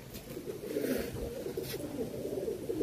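Long-distance Madrasi pigeons give a low, continuous cooing murmur at close range, steady and fairly quiet throughout, with no one speaking.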